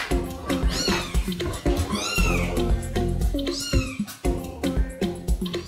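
Loud, insistent meowing from a noisy, quarrelsome cat, several drawn-out rising and falling calls close by, repeated one after another with brief gaps, over faint background talk and handling sounds.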